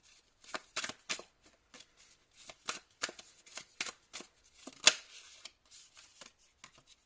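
Tarot cards are shuffled and slapped down onto a table in a quick run of crisp, close riffles and flicks. The sound is light and papery, with short gaps between strokes and one sharper snap partway through.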